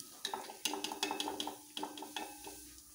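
Rice flour boondi fries in an iron pan while a metal ladle stirs and scrapes, giving a run of sharp clanks and taps over a faint sizzle.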